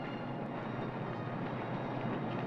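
Underground trains at Piccadilly Circus station in London, 1967, give a steady, loud, continuous rumble of rolling stock through the platforms, with no distinct breaks or voices.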